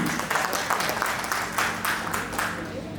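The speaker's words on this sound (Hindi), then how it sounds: "तो आप लोगों की तालियों के साथ मैं शुरू करता हूं" Applause from an audience at a real estate project launch event, with dense, sustained clapping from many hands and a voice heard faintly through it.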